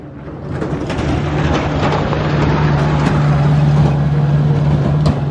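A small shuttle vehicle on Comino island drives past close by, its engine a loud, steady rumble with a low droning hum that builds and holds for several seconds.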